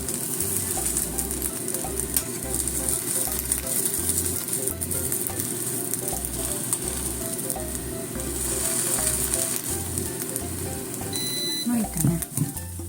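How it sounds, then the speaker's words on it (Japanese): An onion chijimi pancake made without wheat flour fries in a pan over low heat, with a steady close sizzle throughout, faint thumps and scrapes, and a brief utensil clatter near the end. "弱火でちょっと1分ぐらい焼きますね。"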